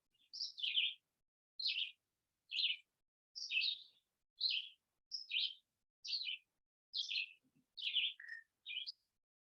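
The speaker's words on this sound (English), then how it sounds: "Maybe you can hear the birds that are here in Vermont speaking to you." A single bird in a Vermont forest chirps in short, evenly spaced bursts, about ten calls in a steady rhythm against near silence.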